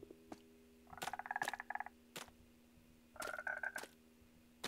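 Frogs in the Minecraft video game give a few short, croaky chirping calls in two clustered bursts, with isolated clicks in between, fairly faint against a quiet background and no talking.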